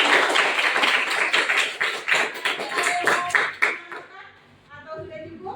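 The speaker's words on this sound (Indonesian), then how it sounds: "Tepuk tangan dong." Scattered hand clapping from a small audience, likely children, in a training classroom, a burst of uneven claps that thins out and fades, with voices talking as it dies away.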